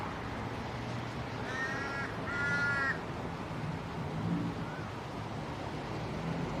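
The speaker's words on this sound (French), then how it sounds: "J'adore les corbeaux." A crow caws in two short bursts of harsh calls against a quiet outdoor background, moderately distant.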